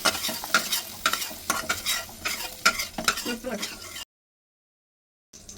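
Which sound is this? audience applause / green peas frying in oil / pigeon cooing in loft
green peas frying in oil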